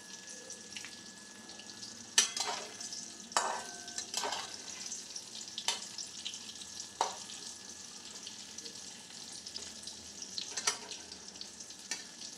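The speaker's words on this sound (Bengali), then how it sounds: "তেল গরম হয়ে গেলে তাতে 1 চিমটে হলুদ দিয়ে আলুগুলো ছেড়ে দেওয়া হচ্ছে" Potatoes fry in hot mustard oil with a pinch of turmeric in a wok, making a steady sizzle broken by sharp clinks and scrapes of stirring.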